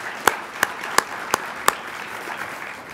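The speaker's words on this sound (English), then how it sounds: "Please join me in giving them a round of applause." Audience applause at a welcome address turns into just five sharp, isolated hand claps spaced about a third of a second apart, then quiet room tone with no voices.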